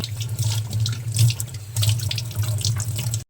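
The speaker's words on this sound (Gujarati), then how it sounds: "આપણે અહીંયા પાનને હવે પાણી વડે સાફ કરી લઈએ" Running tap water splashes steadily into a sink with brief shifts as cabbage leaves are rinsed under the stream; no talking.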